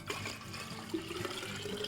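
Cold water pours steadily into a container for homemade iced tea in a home kitchen, a continuous close splashing and gurgling stream with no talking.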